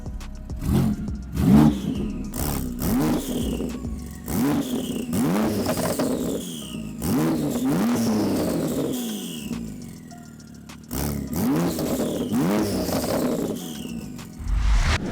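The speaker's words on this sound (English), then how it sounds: "I'll turn the car on and let's get an exhaust clip." A Porsche 911 of the 991 generation revs repeatedly from idle, each throttle blip rising and falling in pitch in a rhythmic series of loud, close exhaust bursts, with brief settling to idle between pulls.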